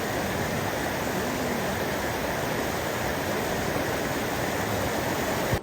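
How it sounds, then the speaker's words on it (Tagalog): Strong waves wash over a shallow, rocky shore in a constant loud roar of surf and churning water, close by and continuous, with no voices heard. "Lakas ng alon."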